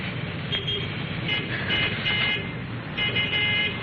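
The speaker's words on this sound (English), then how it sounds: "There's my bus now." A bus pulls in, its engine rumbling steadily with a few brief higher tones over the top for a few seconds, with no talking.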